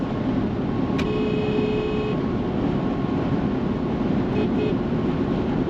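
A 2024 Toyota Land Cruiser's thin, small-car horn, like a Corolla's, sounds a beep of about a second and then a shorter one over steady road rumble.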